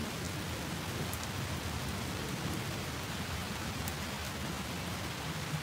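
Steady rain falls in Gorky Park, Moscow, a constant close patter of drops on surfaces with no voices over it.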